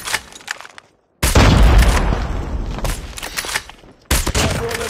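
Bursts of gunfire in Call of Duty Mobile Search and Destroy gameplay, loud close rattling volleys separated by brief silences, with heavy booming shots and lingering rumble.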